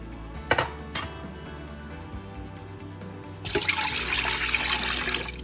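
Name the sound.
sugar and orange juice mixture poured into pan and stirred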